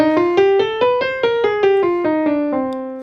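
Piano playing a descending minor scale in the natural minor form, about a dozen separate notes stepping down at an even pace, close and clear, each note decaying into the next, with no talking.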